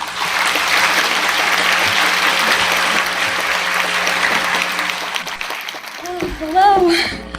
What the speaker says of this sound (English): let's welcome the charming Mimi Quick with a big round of applause.